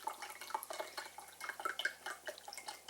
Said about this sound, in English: Hear that fizzing up?